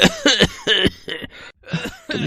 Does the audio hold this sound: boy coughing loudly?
yes